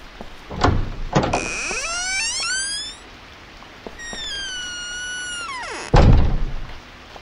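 Bathroom doors in the horror game White Day: heavy thunks and clunks followed by long, drawn-out rising and falling metallic creaks as the doors swing, ending with another loud bang, over quiet rain-like ambience.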